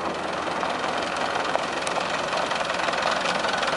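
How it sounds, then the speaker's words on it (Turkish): A tractor engine idles steadily and close by, a continuous rough mechanical rumble with no speech over it. "Hacı Ahmet traktörü bana gönderdi."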